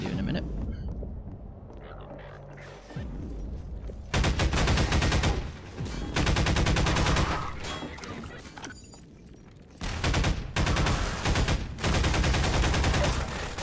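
Rapid automatic gunfire from Half-Life 2 rattles in loud sustained bursts separated by short quieter gaps, with several long volleys of close, dense shots.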